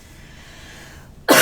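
A single sharp cough bursts out near the end, loud and close, after a stretch of quiet room hum.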